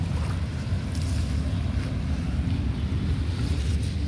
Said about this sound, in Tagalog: Ayan yung dagat.